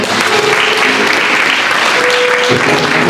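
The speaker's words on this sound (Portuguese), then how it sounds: "Você pode aplaudir ao Senhor?" A church congregation claps in praise to the Lord during a worship service, loud and close, a thick continuous applause with a faint sustained tone and light murmur underneath.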